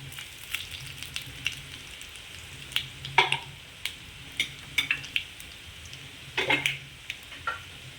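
Mustard seeds and cumin sizzle in hot tempering oil while being stirred, the steady frying hiss broken by sharp crackles and spoon scrapes against the pan.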